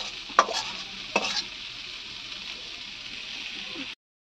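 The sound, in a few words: water spinach (kalmi shak) frying in a pan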